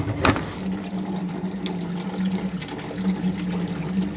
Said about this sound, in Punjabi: ਅੱਜ ਪਾਣੀ ਕੱਢ ਦਿੰਨੇ ਆ ਕੂਲਰ ਦਾ